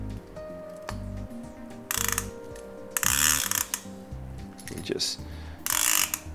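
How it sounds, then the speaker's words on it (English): A Chinese conventional fishing reel's clicker ratchet rattles in several quick bursts of rapid, high-pitched clicking, close and fairly loud, with short pauses and a brief spoken word between. "This other clicker is more high pitch, and this one is probably a little bit louder."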